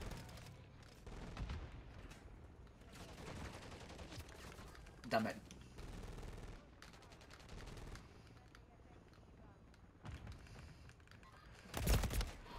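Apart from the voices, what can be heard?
gunfire in the video game Rust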